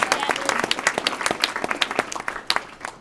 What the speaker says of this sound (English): let's give a round of applause for our seniors